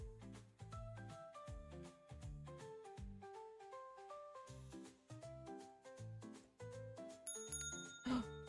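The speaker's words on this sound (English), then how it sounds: "We can jingle the bell." A bell jingles in a video game over a melodic musical score, bright ringing tones near the end above steady notes.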